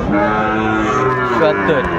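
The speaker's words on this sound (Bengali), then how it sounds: "আমরা দেখছিলাম শাহিওয়ালের ষাঁড় বাচ্চা।" A young Sahiwal bull calf moos loudly and close at a busy cattle market in Madaripur, one long sustained call over crowd murmur.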